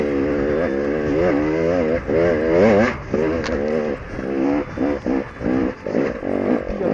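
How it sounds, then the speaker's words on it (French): Enduro motorcycle climbing a rocky uphill trail, engine labouring and revving unevenly as the bike picks over loose stones, close and loud throughout. "Je suis sur la moto moi."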